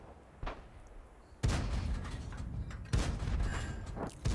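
Vehicle gunfire in a video game lands as a faint early pop, then two loud, close booming volleys with sharp onsets and rumbling sustain, separated by a brief pause.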